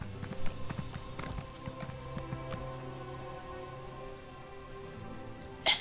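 Horse hooves clip-clop at a trot in Elder Scrolls Online, a rhythmic run of near hoof strikes over a faint ambient hum, with no one talking.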